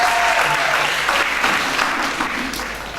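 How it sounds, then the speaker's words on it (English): A crowd at a school reading competition final applauds a young reader, a loud continuous wash of clapping that tapers slightly toward the end. "Give him another round of applause"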